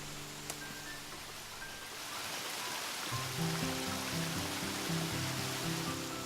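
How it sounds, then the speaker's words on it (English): Continuous rushing water of a small creek waterfall, steady and fairly close, with a low tonal hum rising partway through. "the creek does have a little waterfall"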